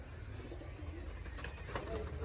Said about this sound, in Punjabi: ਸਾਰੇ ਕਬੂਤਰ ਨੇ ਸਾਰੇ ਕਬੂਤਰ ਨੇ ਬਈ ਇੱਧਰ